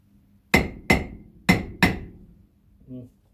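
Four sharp hammer blows land in quick succession, close and loud, followed by a short muffled sound.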